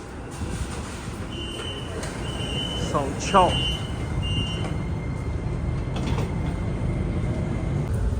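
A Beijing metro train rumbles along on a ride with steady low roar, brief wheel squeals and chime-like tones mid-way, while someone talks over the noise.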